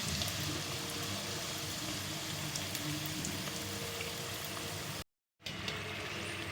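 Chicken box patties frying in oil until golden brown give a steady, close, hissing sizzle that holds evenly throughout, broken only by a brief dropout near the end.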